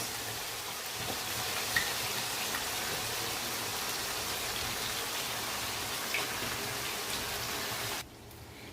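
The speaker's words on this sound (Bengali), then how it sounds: "এবার মশলাটাকে আমরা কষিয়ে নেব" Spice paste with chilli sauce, tomato sauce and soy sauce fries in a pan, giving a steady soft sizzle and crackle at close range that drops away near the end.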